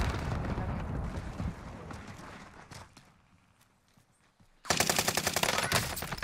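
Rapid automatic gunfire in Call of Duty Warzone with a GRAU rifle, loud and rhythmic, opens the clip and returns as a dense sustained burst after a quieter stretch with footsteps.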